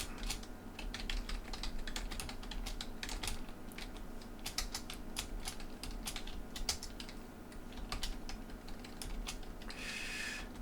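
Steady typing on a computer keyboard, keys clicking in quick irregular bursts close to the mic over a low background hum, with no one speaking.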